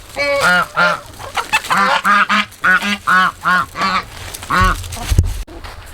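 A run of loud, nasal honks from geese, about ten calls in quick rhythmic succession, close by, followed by a brief rustle.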